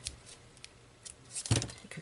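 Scissors handled during paper crafting with glue dots: a brief, close clatter and snip of the blades, a louder burst toward the end of a short, quiet stretch.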